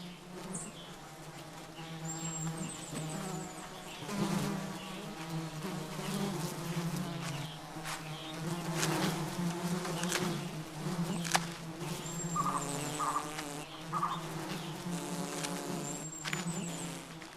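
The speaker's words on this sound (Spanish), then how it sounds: "Grandes moscas que se beben el fluido que segregan sus ojos acompañan a las iguanas" Large flies buzz persistently around iguanas on a wild Cuban island, their droning wingbeats rising and falling close by, with faint bird calls in the background.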